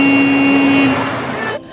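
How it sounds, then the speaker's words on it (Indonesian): A car horn blares in one sustained, loud honk lasting about a second, over busy road noise that fades out. "klakson mobil terdengar dan mereka segera menghindar"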